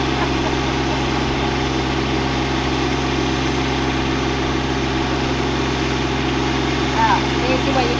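A tractor engine runs steadily at idle in a garden setting, a low, constant rumbling drone with vibration, close and unchanging throughout.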